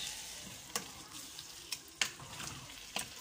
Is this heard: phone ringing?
no